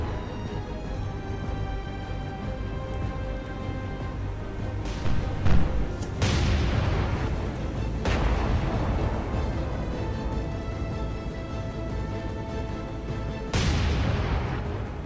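Warship guns booming in the naval game War on the Sea, several heavy deep blasts spaced seconds apart with long rumbling decays over a steady engine drone.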